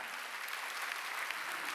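Church congregation applauding during a Sunday worship service, a dense, even patter of many hands clapping, heard at a distance and fairly faint, steady without breaks.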